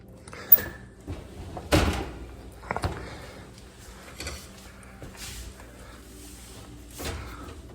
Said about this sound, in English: Very easy to remove the door.